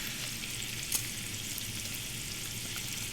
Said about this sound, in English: It's been sizzling.